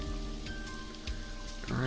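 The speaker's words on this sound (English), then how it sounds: "The rain is depressing." Rain falling in the video game AI: The Somnium Files, a soft steady patter under a faint tonal music bed, rising into a louder burst at the end.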